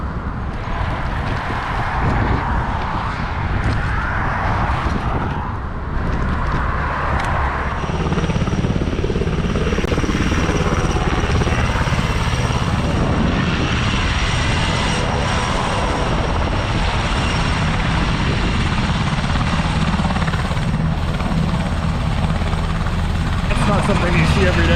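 A helicopter passes overhead on a wooded ride in the Rothrock area, its rotor and engine a loud, steady drone throughout with wind noise and a few spoken words underneath.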